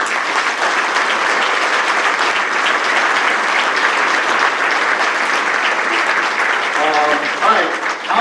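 A Tallahassee quarterback club audience applauds in a room, with sustained, even clapping filling the space for several seconds before a voice briefly breaks through near the end.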